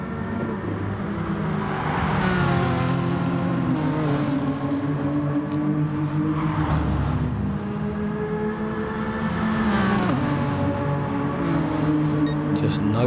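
Sim race cars in a racing game sweep past through Sterling's, engines rising and falling in pitch as several cars pass in close succession, steady and loud beneath continuous commentary.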